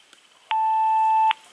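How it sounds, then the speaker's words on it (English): Message tone from an AT&T EP5995 answering machine, a single steady electronic beep lasting just under a second, clear and alone against a quiet background. "Hello, please leave a message after the tone."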